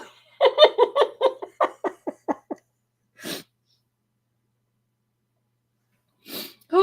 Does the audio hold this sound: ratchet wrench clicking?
no